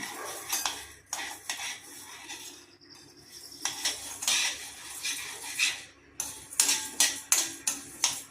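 Toor dal dry-roasting in a pan for rasam powder, with bursts of dry rattling scrapes as a spoon or spatula stirs and clinks against the metal, coming in uneven strokes with short pauses, close and fairly loud, with no talking.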